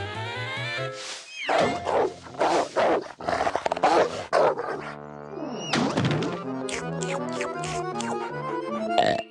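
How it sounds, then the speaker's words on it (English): Cartoon watchdog barking in a comedic animated short, a series of loud, close, tonal vocal barks and thumps in irregular bursts, with brief voiced sounds between them. "That's what I call a bark!"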